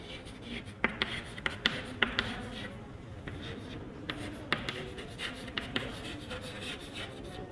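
A teacher writes numbers on a board with quick, tapping, scratchy strokes in short bursts, close and clear, with no talking.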